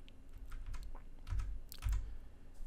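Computer keyboard keys, the arrow keys, pressed in a few separate clusters of soft clicks, close and moderately quiet, with no voice over them.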